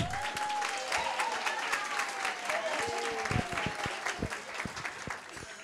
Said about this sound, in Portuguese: Eu gosto da ISMED porque a gente nem precisa pedir o aplauso